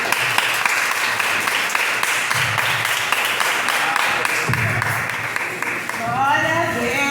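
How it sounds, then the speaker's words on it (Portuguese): At a children's ministry church service, a congregation claps for the Lord in a continuous, fairly loud patter of many hands, and a voice rises over the clapping near the end. "Aplauda o Senhor."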